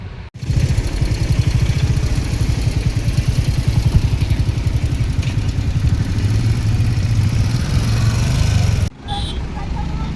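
Motorcycle engine running steadily during a ride toward Lonavala, a continuous close, loud mid-pitched drone with wind rush, cut off briefly near the end before resuming.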